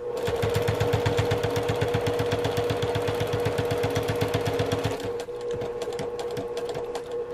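A sewing machine stitches the top edge of a zippy travel bag in a fast, even run of rapid needle strokes, close and steady, then slows and stops near the end, leaving a quieter hum and a few clicks.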